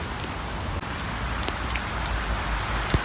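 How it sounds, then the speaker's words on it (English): Steady rain falls outdoors on a Tallinn street, a dense, even hiss with a few brief drips and taps over about three seconds, fairly close and moderately loud. "Raining."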